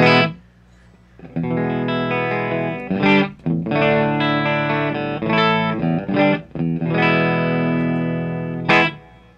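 An electric guitar with a clean tone through a pedalboard plays sustained chords and notes, loud and ringing, with brief gaps between phrases and no talking.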